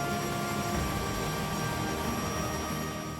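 A helicopter flies overhead with a wash plant slung beneath it, its rotor and engine producing a loud, steady drone with a faint whine that holds constant throughout.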